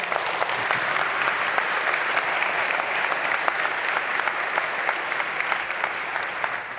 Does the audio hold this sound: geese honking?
no